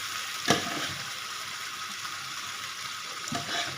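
A tadka tempering for pakora kadhi sizzles in hot oil, a constant close hiss broken by a couple of brief utensil clatters near the start and end.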